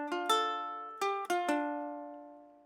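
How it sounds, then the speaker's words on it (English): Ukulele plucking the Spiderman theme melody, five clear note attacks in a short phrase, with the last note left ringing and fading out alone. "Altogether, that should sound like this."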